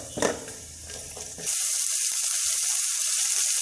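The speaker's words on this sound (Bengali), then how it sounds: "এই মশলাটা আমি একটু নেড়ে চেড়ে ভেজে নিচ্ছি" Bitter gourd drops into spices frying in hot oil, and after a few soft stirring scrapes a sudden loud, steady sizzle surges up and holds to the end.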